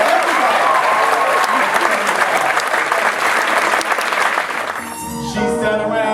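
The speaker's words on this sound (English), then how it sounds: "Let's give another round of applause to John." A crowd at a 2013 NBCT volunteer gala claps in a loud, dense burst of applause that fades after about five seconds, giving way to voices and tonal sounds.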